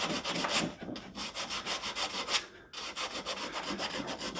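Rhythmic back-and-forth scrubbing of 80 grit sandpaper on the wood of a scarf joint guitar neck, steady close strokes with a brief pause midway.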